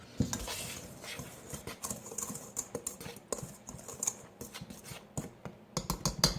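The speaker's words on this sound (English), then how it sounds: "Now what I'm going to do is I'm going to whisk it together." A whisk beats dry ingredients with baking powder in a bowl, giving rapid, uneven ticking and scraping close by, with quick bursts and brief pauses.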